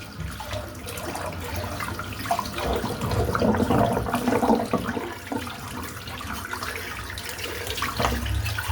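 Bathroom sink filling from the tap, a continuous close rush of running water that swells and churns for several seconds with no talk.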